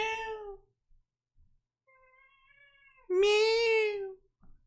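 A cat's meows, a short one at the start, then a faint thin mewl and a long, loud, drawn-out cry near the end, with quiet gaps between them.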